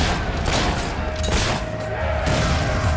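Rifle gunfire in the video game Fable 3 comes as a loud, dense barrage of blasts and booms filling the whole moment, with a tonal game sound running under it.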